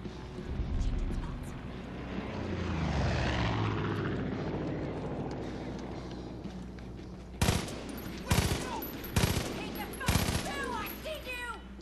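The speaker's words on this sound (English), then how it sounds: "There's a plane flying over." An aircraft passing overhead in the video game Far Cry 5, a rising and fading engine drone over the first several seconds, followed by sharp bursts that sound like gunfire, with someone talking throughout.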